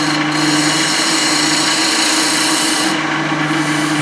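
Hand sanding on a small wooden piece gives a steady, close rasping scrape that runs unbroken for the whole stretch, with a low electrical hum beneath and no voices.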